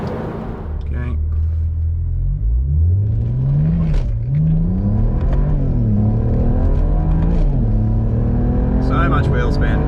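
A BMW N54-engined car accelerates hard with wheel spin, its engine note rising and falling through gears with a loud droning rumble close inside the cabin, while people talk over it.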